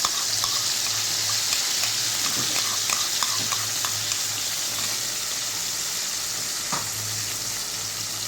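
A blended paste of fried onion, cashew and green chilli fries in a pan with a loud, continuous close sizzle and occasional soft stirring scrapes, with no talking.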